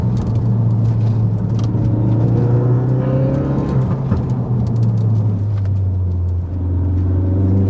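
Ford Focus RS in track mode climbing a hill, a loud, close, steady low engine drone that shifts pitch as it pulls, with road rumble and no talk.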